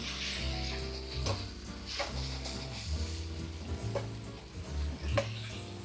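Lamb sizzles and fries in a well-seasoned pan for Mongolian lamb, with steady crackling under scraping and stirring as the meat is flipped, and a few clinks of utensil against metal.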